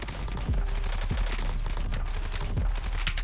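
Rapid bursts of AK rifle fire in the Warzone video game, a steady automatic clatter with a few heavier impacts, loud and continuous throughout with no one speaking.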